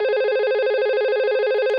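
A simulated analog phone ringing in a Cisco Packet Tracer VoIP setup with one router and two switches, a steady loud electronic warbling ring tone that continues unbroken, with no voices.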